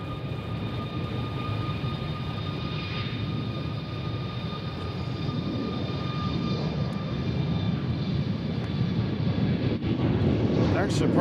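A departing airliner's engines roar steadily at Nashville International Airport, a broad sustained rumble with a high whine on top that slowly grows louder toward the end.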